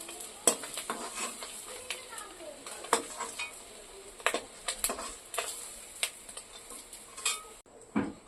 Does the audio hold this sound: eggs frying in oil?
yes